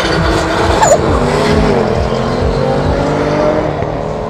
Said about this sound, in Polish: I za chwilę zobaczymy pojedynek między Jaguarem a BMW. My gotowi, zawodnicy również i jadą.